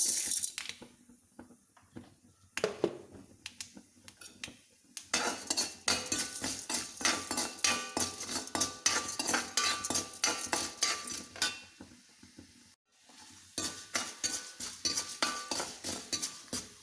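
A spoon clinks and scrapes in a pan as urad dal is stirred into hot sesame oil with popped mustard seeds for a Kerala chutney tempering. Steady metallic scraping with a soft sizzle underneath, briefly pausing twice, no voices.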